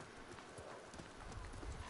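A horse's hooves clip-clop in a steady rhythm in the video game Ghost of Tsushima, faint and quiet under a soft background bed.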